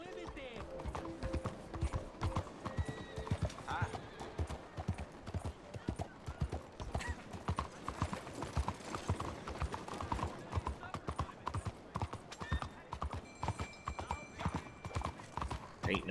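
Hooves of a galloping horse in the video game Red Dead Redemption 2 pound in a fast, regular clip-clop rhythm, close and continuous, with faint tack jingles and a person speaking over it at times.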